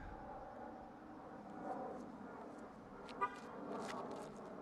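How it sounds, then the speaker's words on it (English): A single short car horn honk sounds once, brief and somewhat distant, over a steady murmur of outdoor ambience. "the honk right in the backswing"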